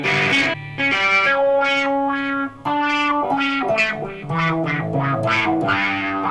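An electric guitar with heavy distortion runs through a multi-effects unit with the compressor placed last in the chain, playing sustained chords and single notes in short phrases, loud and upfront with a brief drop in the middle.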